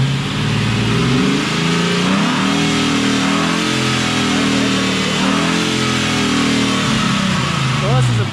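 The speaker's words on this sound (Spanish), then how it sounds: "El motorcito, ¿cómo escucha?" A Jeep Cherokee Chief fitted with an LS 6.0 V8 revs loudly and close, the engine note climbing and falling in repeated surges over a rough idle, with someone talking over it.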